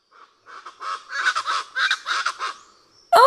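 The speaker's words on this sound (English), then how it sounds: "Noisy parrots flew up out of the trees and high into the blue sky" Harsh, raucous calls of parrots rising from trees, several loud squawking bursts in a rapid irregular series, then a sharp, louder screech at the end.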